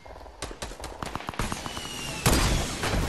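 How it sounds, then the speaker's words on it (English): A sniper rifle shot from a multiplayer video game, one sharp loud crack among a quick run of rapid gunfire bursts and a heavy blast near the end. "Oh, I sniped him!"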